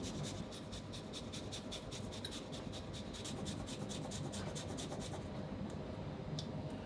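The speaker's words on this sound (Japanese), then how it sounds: "まずは生姜焼きなので生姜をたっぷりすります。" Fresh ginger rubbed hard against a grater for a Japanese ginger pork dish, a steady run of quick rasping strokes, close and loud, continuing without pause and with no talk.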